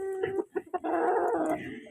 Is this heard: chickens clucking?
yes